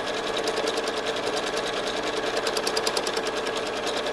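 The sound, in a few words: sewing machine stitching a quilt spiral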